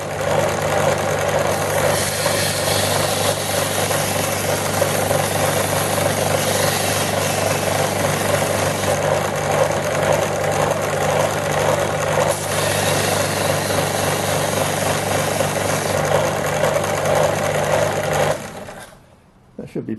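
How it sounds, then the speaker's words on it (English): Fine-grit linisher belt sander working a metal fuel tap, a steady whirring motor drone with a continuous abrasive grinding hiss running for many seconds before it winds down abruptly at the end. "Now I'll use my finest grit linisher, and be a bit more gentle that way."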